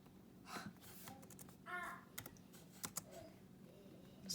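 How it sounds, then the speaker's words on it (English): Someone types on a computer keyboard with one hand, giving faint, scattered clicks and key taps in irregular bursts with short pauses. A quiet breath is heard between keystrokes. "This is what I get for typing with one hand and looking down."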